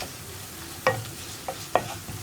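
Spice powders frying in a pan on a low flame for chana masala, with a soft continuous sizzle and three distinct spoon scrapes against the pan, close and fairly quiet, without any voices.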